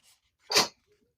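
A single sharp sneeze, close and fairly loud, preceded by a faint breath and followed by silence.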